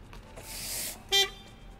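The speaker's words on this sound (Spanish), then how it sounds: "¿quién toca bocina?" A short car horn honk sounds once in the Gas Station Simulator video game, a brief bright toot following a soft whooshing noise.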